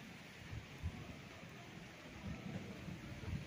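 Rain falling on a rooftop makes a faint, steady patter with a few low rumbling thumps scattered through, heard alone with no voices.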